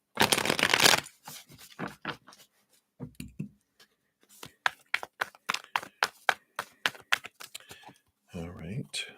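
A deck of cards riffled and shuffled, crisp rapid flutters followed by a series of sharp snapping taps, close up, with brief quiet gaps between bursts.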